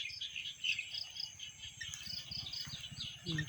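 Small frogs call in a rice field at dusk, a low pulsing chorus of croaks running beneath a steady high buzz of crickets and insects, faint and distant throughout.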